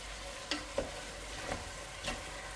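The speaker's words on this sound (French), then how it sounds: "On va brasser ça un peu." A spoon stirs a pot of potatoes, water and preserved lemon, giving a quiet simmering hiss broken by four soft, scraping knocks spaced unevenly.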